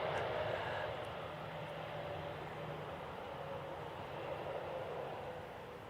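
An aircraft landing at Wellington Airport in gusty wind, heard as a broad, distant engine roar with wind noise, steady and slowly fading toward the end.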